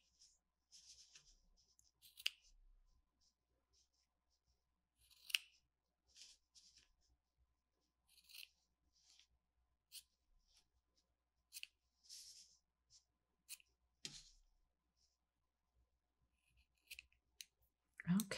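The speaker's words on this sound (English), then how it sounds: "let me grab my scissors. And all you're gonna do is cut up straight up the middle." Scissors snip through yarn strands repeatedly in short, irregular cuts, close and crisp, separated by quiet pauses, with a few soft handling sounds.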